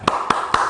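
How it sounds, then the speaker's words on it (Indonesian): Three sharp, evenly spaced claps sound close and clear, the rhythmic tepuk semangat cheer that a class performs together. "kita beri tepuk semangat dulu yuk untuk kita semua"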